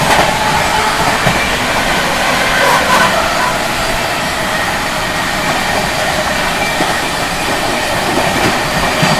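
The Mumbai Rajdhani Express runs on the rails while overtaking another train, a loud, steady rumble with continuous rhythmic clickety-clack of wheels and rushing air, heard from close by on board.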